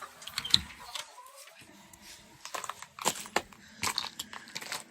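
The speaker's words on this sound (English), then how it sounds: "We've got 15 chickens." Chickens cluck and peck nearby in short irregular bursts, with scattered scratching and crunchy pecking sounds in a quiet setting.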